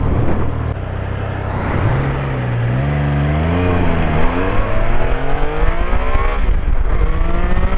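A Triumph Tiger Sport 660 motorcycle engine pulls hard through the gears, its rising harmonic whine climbing and dropping with each shift, loud and close with steady wind noise underneath.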